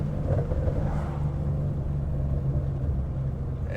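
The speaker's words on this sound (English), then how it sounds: "As y'all can see, second shift, downshift, pretty butter." Mustang GT with headers rumbling continuously from the driver's seat through a gear change and downshift, a deep steady exhaust drone with no talk.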